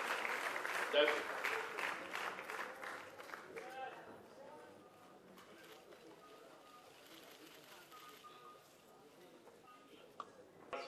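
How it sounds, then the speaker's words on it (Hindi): Audience at an Amitabh Bachchan book launch gives a quick burst of clapping that fades after a few seconds, followed by a quiet hall with faint voices. "जावेद साहब के लिए जोरदार तालियां"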